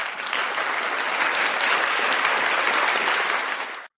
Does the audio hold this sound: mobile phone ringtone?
no